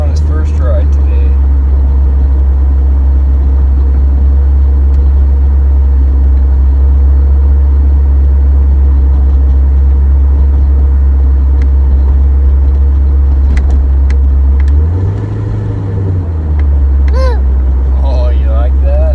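A Corvette driving, its loud, steady low engine rumble filling the whole stretch with road and wind noise, plus a brief deeper surge near the end.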